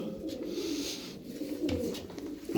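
A pigeon coos nearby in soft, low, throaty rolling calls that repeat over a faint background, with no talking.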